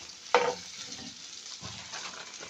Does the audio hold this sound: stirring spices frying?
yes